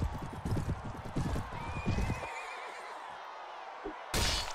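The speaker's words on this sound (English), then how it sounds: "I don't want to kill the poor horse." A horse on a Mount & Blade battlefield gives a high, wavering neigh over rapid clip-clop hoofbeats, with clattering combat thuds around it and a sudden loud burst at the end.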